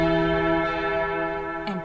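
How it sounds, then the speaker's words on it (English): A church bell tolls with a deep, sustained ringing tone that hangs steadily, then a fresh strike sounds near the end, with no voices present. "toll the bell"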